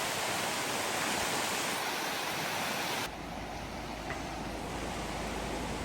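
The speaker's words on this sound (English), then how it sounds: "But the river is absolutely wild." A wild, flooded river rushes in a dense, loud, unbroken roar of water that stays constant throughout, heard alone without talking.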